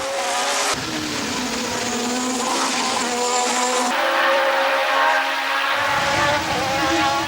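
McLaren Formula 1 cars race through a curve in a 1988–1990 era Grand Prix, loud high-revving engines shifting pitch as they pass and brake, with tyre squeal and continuous racing engine noise.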